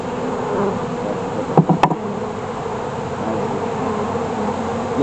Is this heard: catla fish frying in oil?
no